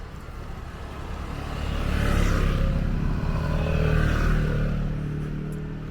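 Motorcycles rumble past at night on Ulleungdo, engine noise swelling twice as they go by at moderate distance, with a steady low drone throughout.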